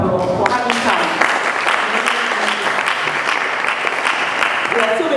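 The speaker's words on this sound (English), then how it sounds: "So please give yourselves a round of applause for having come." An audience at a community event in Harlsden breaks into loud, dense applause that holds steady throughout, with some voices mixed into the clapping.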